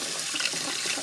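Water runs steadily from a household tap, a loud, even hiss and splash with no pauses across the short moment.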